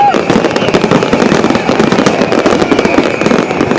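New Year fireworks crackle and bang continuously, with dense rapid bursts that are loud and sustained and a crowd faintly audible underneath.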